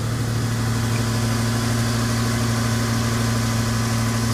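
A 1995 Toyota T100 SR5 pickup idles steadily up close, its engine holding a smooth, even low hum with no other sounds over it.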